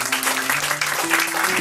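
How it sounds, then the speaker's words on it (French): Steady applause from a crowd fills the clip, continuous clapping with a low sustained tone underneath. "Lilia, Pika, applaudissez-la s'il vous plaît."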